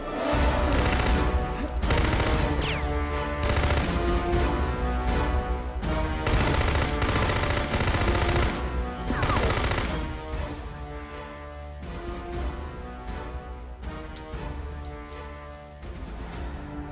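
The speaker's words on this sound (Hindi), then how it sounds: "ये गन है, नीचे बैठ।" Dense gunfire in a movie scene: rapid, sustained bursts of automatic shots boom and crackle almost continuously at high volume, easing slightly toward the end.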